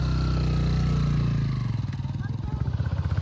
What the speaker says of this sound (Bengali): সামনে দিয়ে কটা বাইক চলে গেল।